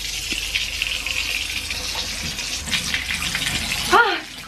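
Water gushes steadily from a hotel bathroom tap, a continuous broadband rush that swells near the end, with a voice breaking in briefly over the flow.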